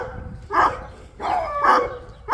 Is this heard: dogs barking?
yes